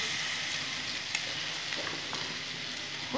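Masala chicken being sautéed for kosha in a pan gives a steady, close sizzle with faint stirring clicks, continuous for a few seconds without talk.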